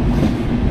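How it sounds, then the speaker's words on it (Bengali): The Benapole Express train runs at speed, giving a steady low rumble and rolling clatter that fills a brief moment without pause. "এবং ট্রেন বেশ গতি নিয়েই চলাচল করছে"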